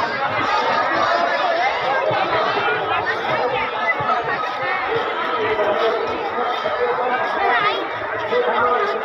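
A large crowd gathered at Deekshabhoomi, Nagpur, for Dhammachakra Pravartan Day, a steady babble of many voices with footsteps and scattered laughter, continuous and close around the listener.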